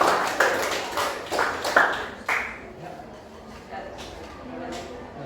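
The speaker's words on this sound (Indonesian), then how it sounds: "kita berikan tepuk tangan untuk kelompok" Students in a classroom clap for a presenting group, a handful of sharp, separate bursts of clapping that quickly fade and give way to speech.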